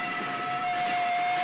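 Steady rumble of a moving passenger train bound for Fort William, with a sustained high tone running through it, heard from inside the carriage at moderate level.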